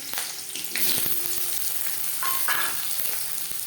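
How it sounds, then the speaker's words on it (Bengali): Whole cumin seeds fry in hot oil as a tempering, giving a steady close sizzle and crackle with faint stirring clinks against the pan throughout. No one speaks. "দশ 15 সেকেন্ড জিরে ভেজে নেওয়ার পর"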